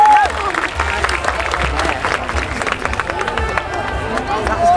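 A crowd at a horse show cheers and claps steadily for the riders, a loud, dense wash of applause and voices, with announcer talk mixed in.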